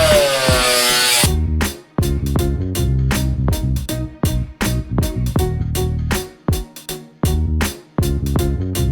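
A power tool cuts out a metal panel for a fuel cell mount on a Tracker, loud and close, sounding in harsh bursts interrupted by short pauses.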